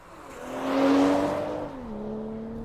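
2022 BMW M240i xDrive with a 3-litre turbocharged straight-six, the engine rising in pitch as it passes close, then falling back to a steadier lower drone.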